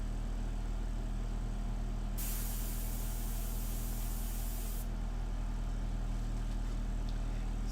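An airbrush spraying India ink for a portrait gives one soft, quiet hiss lasting a few seconds over a low steady background hum.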